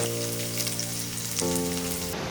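Spring onions drop into chicken frying in a pan for a chicken majestic dish, giving a close, steady crackling sizzle with a bright, spattering texture and no talking.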